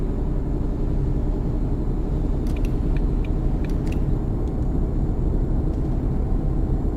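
A truck engine drones continuously in American Truck Simulator while driving between Yuma and Sacramento, a dense steady rumble with a few faint clicks and light ticks over it.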